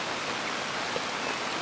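Heavy rain falling steadily around a car and big tent while camping, a dense, even broadband hiss with no breaks, close and enveloping, and no talking.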